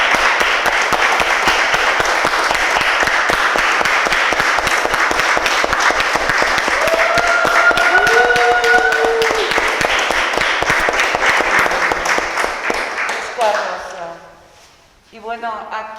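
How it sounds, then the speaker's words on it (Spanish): An audience at a talk breaks into sustained applause, dense clapping from many hands that runs loud and steady for about twelve seconds. It then thins out and fades, and a few voices carry underneath. "Le aplaudimos entre todos."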